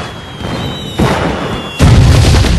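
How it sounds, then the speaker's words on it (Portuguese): Fireworks exploding during a 1968 Lunar New Year (Tet) celebration in Vietnam: two loud, sharp booms a second apart, each followed by a rumbling roar, over a steady background with a faint high tone. "Fogos de artifício estouraram"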